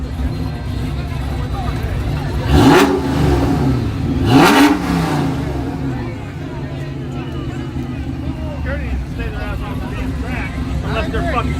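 Drag racing cars roar off the line at the King of the Gut Yello Belly dragstrip shootout, two loud engine passes rising and sweeping past in succession, followed by a lingering engine drone and crowd chatter.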